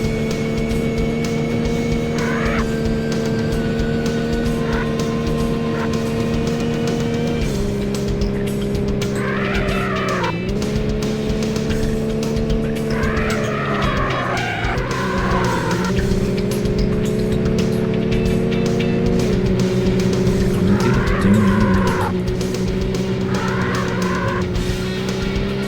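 Racing cars in the video game Need for Speed Porsche Unleashed, with a loud sustained engine whine that shifts pitch through gear changes and a few bursts of tire squeal, continuous throughout.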